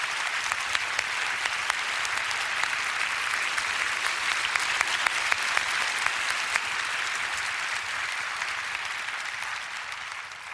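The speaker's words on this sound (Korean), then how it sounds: "위로와 격려의 박수를 부탁드립니다." A church congregation gives sustained applause of comfort and encouragement for a minister's widow, an even, dense wash of many hands clapping at steady volume for about ten seconds, fading slightly at the end.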